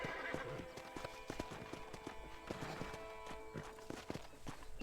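Horse hooves clip-clop in a steady walking rhythm in the video game Red Dead Redemption, crisp and close, over a soft ambient background with faint tones.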